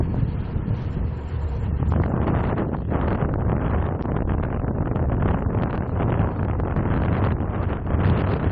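Heavy, buffeting wind noise rushes over the microphone while riding a Kona Dewey touring bike fitted with a Bafang BBS02 mid-drive motor at about 24 mph into a headwind, loud and continuous with gusty swells.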